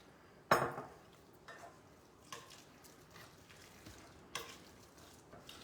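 A spoon stirs pancake batter of flour and water as it thickens, giving a few soft, brief scraping bursts spaced by quiet gaps, with no other sound.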